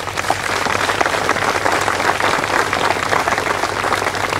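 Audience applause at an evening show about the Canal de Berry, steady dense clapping from a large crowd, loud and sustained with no talk.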